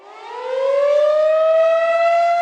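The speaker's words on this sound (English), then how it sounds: "it is the outdoor warning sirens" An outdoor civil-defense tornado warning siren winds up from a low pitch and holds a loud, steady rising wail for the whole stretch, alone with no other sounds.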